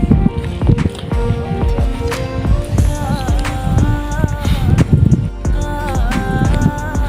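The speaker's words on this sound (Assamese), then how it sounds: "এইখন নাওখন আৰু পানীত ঢৌ বাঢ়ছে" A boat out on the Brahmaputra river in rough, choppy water after rain, with waves slapping and sloshing against the hull in an irregular rhythm, close and fairly loud, and a voice speaking briefly over it.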